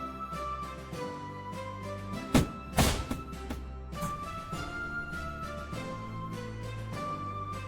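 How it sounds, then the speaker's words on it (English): Cannon attack in the FreeCol strategy game, a series of dull thunks with two sharp louder booming hits in the middle over a faint background tone. "Attack with the cannon."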